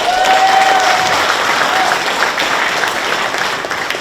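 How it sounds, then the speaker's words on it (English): Dense, steady applause from a large crowd fills the whole stretch, loud and close, easing off slightly toward the end. "So please help me give them a round of applause."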